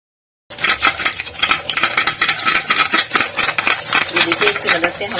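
A pressure cooker is scrubbed with a packet to lift stains, producing close, rapid, continuous rubbing and scraping strokes with a metallic rasp that continue without pause.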